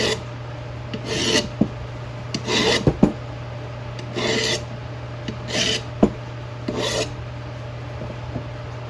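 Metal file rasping rust off the edge of an old hand tool during restoration: repeated close scraping strokes of about half a second each, in an uneven rhythm over a steady background hum.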